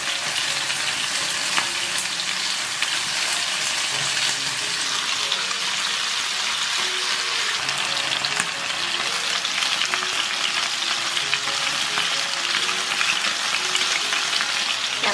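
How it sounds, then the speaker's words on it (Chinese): Chicken thigh pieces sizzle skin-side down in hot oil in a pan over medium-low heat, a dense, steady frying crackle that runs throughout, close and even, with no voices. "油温热了，把鸡腿肉放进来煎。"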